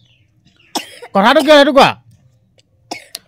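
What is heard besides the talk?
boy coughing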